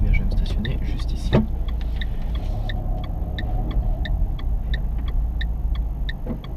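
A car pulling into a parking spot back at a driving exam centre in the Gex area, engine rumbling steadily up close with a regular ticking indicator clicking throughout and a brief knock early on.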